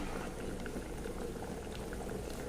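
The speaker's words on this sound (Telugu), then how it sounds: "అరటికాయ సగం బాయిల్ అయిపోయిందండి" A pot of raw plantain pieces boils at a steady rolling bubble, with dense low gurgling and popping close by and no voices.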